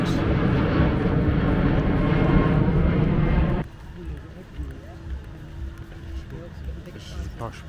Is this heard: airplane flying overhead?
yes